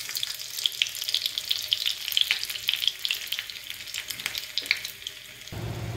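Chopped garlic sizzles in hot ghee for an Indian tadka, a steady crackling fry throughout with light stirring, close and alone without talk.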